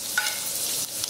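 Chopped dried red chillies sizzle in hot oil, a steady close hiss with a few crackling pops, brief and without talk.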